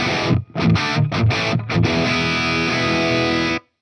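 Heavily distorted electric guitar through an amp, captured by close microphones: a few choppy chords at the start, then a sustained ringing chord that cuts off cleanly, loud and upfront with no talking.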